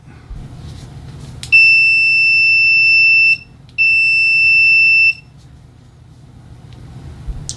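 Innova 3320a multimeter's beeper sounding two loud, shrill steady tones of about two and one-third seconds each, separated by a brief gap, with quiet room noise before and after.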